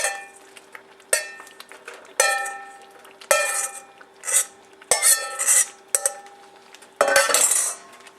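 Paneer tikka masala stirred in a pan: a spoon scrapes and clinks against the metal in about eight distinct bursts, close and fairly loud, with no voices.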